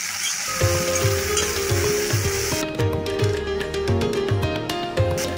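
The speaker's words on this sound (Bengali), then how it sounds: "এবার আমি তেলে ভেজে নিচ্ছি" Steady oily sizzling from eggplant frying in a pan, with tonal background music playing beneath it throughout.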